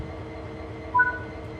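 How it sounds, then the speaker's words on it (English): Brake air releases on an SD40 diesel locomotive in Train Sim World 3, a short hiss and clunk over the steady low rumble of the idling engine. "Now move the automatic brake lever into the release position."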